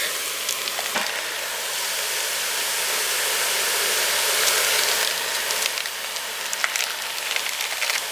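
Two pounds of ground beef frying in a pan with a tablespoon of avocado oil, giving a steady loud sizzle and hiss that swells midway, with scattered crackles and pops and no talking.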